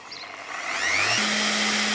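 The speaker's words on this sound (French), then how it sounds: "Une ponceuse de 300 watts, c'est le maximum qu'on peut connecter sur le convertisseur." An electric sander rated 300 watts, powered through a 12V-to-220V car cigarette-lighter inverter, spins up with a rising whine, then settles into a steady, loud motor hum.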